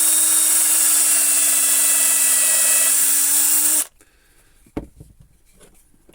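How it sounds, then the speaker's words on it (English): A power drill bores a hole into a wooden slice, a steady high whine held loud for about four seconds before it cuts off, followed by a soft knock and quiet handling. "So I'm just going to drill a hole roughly in the centre of that groove"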